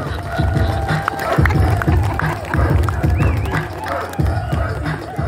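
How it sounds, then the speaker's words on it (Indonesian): A crowd claps and cheers loudly with rhythmic, lively energy, voices mingling in the din throughout, at a hip-hop performance in a prison. "tepuk tangan buat Kampung Kalapas dulu, luar biasa sekali"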